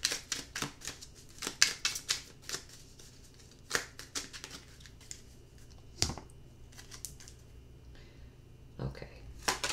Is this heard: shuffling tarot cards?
yes